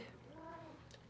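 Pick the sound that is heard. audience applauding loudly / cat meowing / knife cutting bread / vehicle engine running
cat meowing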